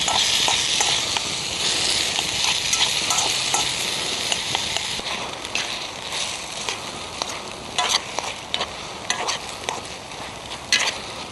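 Stir frying with Blue Dragon sweet and sour sauce at a wet tarp camp in the New Forest, a steady loud sizzle with repeated scraping stirs of a utensil against the pan, nearby and without talk.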